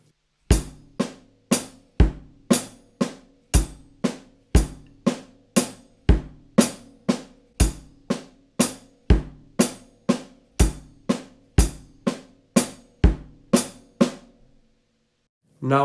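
A drum kit plays a groove in 7 with hi-hat, evenly spaced sharp hits in a steady repeating pattern with accented strikes, close and clear for about fourteen seconds before stopping.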